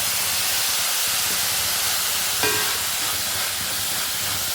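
Onion and green chili sautéing in a pan for an ivy gourd masala curry, giving a steady, fairly loud hiss and sizzle that holds evenly throughout with no voices.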